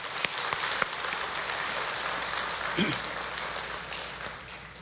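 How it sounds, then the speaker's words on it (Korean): A church congregation at a Sunday worship service in Seattle applauds in a steady, even wash of clapping that holds for several seconds at a moderate distance, with faint voices mixed in. "하나님 앞에 감사의 박수를 돌립시다."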